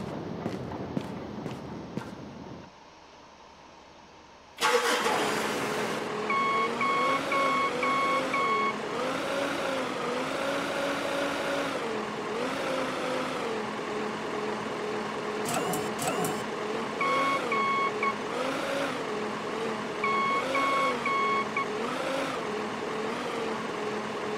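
Forklift in the Beer Factory game, first idling quietly with clicks, then a loud motor whine that rises and falls while steady rhythmic reversing beeps repeat over it, no talk.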